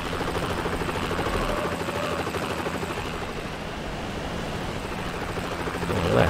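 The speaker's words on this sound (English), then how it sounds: "Where did that helicopter go?" A helicopter flies in Need for Speed: Hot Pursuit 2 on Xbox, a steady close rotor drone with low rumble that swells slightly at the end, with no talking.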